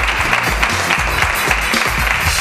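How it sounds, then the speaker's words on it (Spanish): A studio audience on a Spanish television talk show claps to welcome guests, giving loud, steady, close applause with regular individual claps standing out throughout. "con un fuerte aplauso, por favor."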